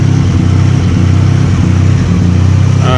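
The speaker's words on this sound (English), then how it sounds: "the engine jumping so much, you can hear it" A Dodge Journey engine runs roughly close by with an uneven, lumpy rumble that pulses irregularly, loud and steady throughout with no talking.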